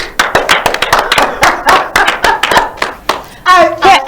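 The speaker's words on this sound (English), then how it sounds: "Round of applause." Audience clapping in a series of sharp bursts, fairly close and loud, with a voice talking at the end.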